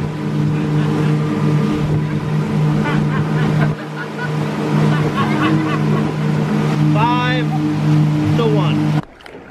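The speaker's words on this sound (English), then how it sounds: "Scotty, show them how the weight is distributed here on our speedboat." A speedboat's engine drones loudly and steadily over water in Indonesia, with splashing and a few faint voices under the motor until it cuts off near the end.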